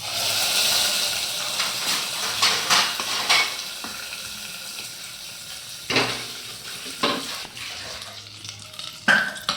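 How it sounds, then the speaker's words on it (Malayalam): Hot mustard seed tempering goes into a leafy greens curry, bringing a close hissing sizzle with intermittent clanks and scrapes of a metal spoon against the pot. "കടു താളിച്ച് ഇനി നമുക്ക് ഇതിനകത്തോട്ട് ഒഴിക്കാം."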